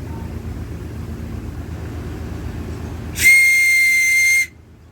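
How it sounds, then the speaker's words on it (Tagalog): A homemade whistle fashioned from a soft drink bottle cap gives one loud, shrill, sustained blast lasting about a second, played close up after a stretch of quiet room noise. "So ayan, may pito ka na."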